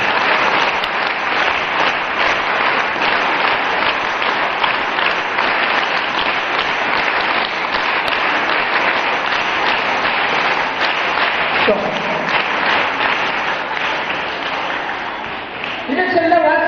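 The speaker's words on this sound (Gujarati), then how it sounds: "રિધમથી તાળી પાડો. મેં તમને કહ્યું, ફરીથી તાળી પાડો." A seminar audience applauding, a dense, loud, continuous wash of many hands clapping close by that holds steady for most of its length before thinning and breaking near the end.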